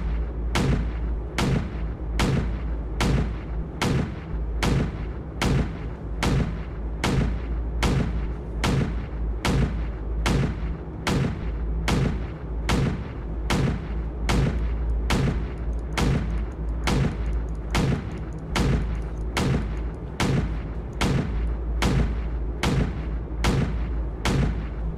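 Mech cannon fire in the game Home Wars - Mech Defense, heavy booming shots repeating in a steady rhythm of roughly one per second across the whole stretch, loud and close with no voices.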